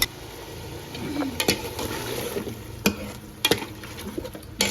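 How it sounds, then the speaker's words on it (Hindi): Yogurt is added to a pan of spices frying in oil for a chicken tola curry, then stirred: a steady moderate sizzle with several sharp clinks and scrapes of a spoon against the pan, no talking. "तो अब इसमें डालूंगी मैं आधा प्याला दही, यानी कि आधा कप।"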